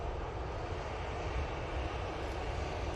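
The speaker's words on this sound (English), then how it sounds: "Off to Rome with this Easyjet A320." An EasyJet Airbus A320 airliner departs Manchester Airport, its jet engines a steady, broad, distant roar that holds evenly throughout.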